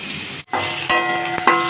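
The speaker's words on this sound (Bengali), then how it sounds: "গ্যাসটাকে হাই ফ্লেমে রেখে পেঁয়াজগুলোকে ভাজবো" Onions frying in a pan over a high gas flame for an egg kosha curry, a steady close sizzle with a brief dip and a couple of stirring clinks, no talk.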